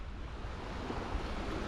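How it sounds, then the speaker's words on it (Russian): Waves wash on a river or lake near an island campsite, a steady broadband wash with light wind noise against the microphone, even and fairly quiet throughout with no voices. "Ладно, хоть волны чуть-чуть приутихли."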